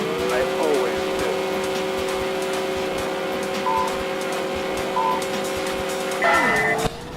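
Race car engine in the Midnight Club video game holding a steady loud drone at the race start with nitro boost, brief higher tones over it and a sharp drop near the end, with voices underneath.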